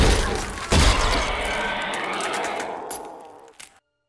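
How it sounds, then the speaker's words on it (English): A sharp crash bursts out as plexiglass shatters in a film scene, followed by a crackling, splintering wash of breaking material that fades out over a few seconds into silence. "Is it plexiglass shatter like that?"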